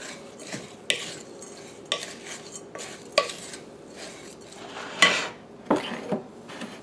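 A zucchini and carrot fritter mixture with cheese is stirred in a bowl, with a spoon clinking and scraping in a steady rhythm of sharp taps roughly once a second, close and alone.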